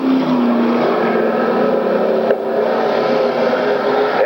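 A race car, number 42, roars steadily along the backstretch on its last lap in 1994, a loud sustained engine drone with a brief flicker midway and no voices over it.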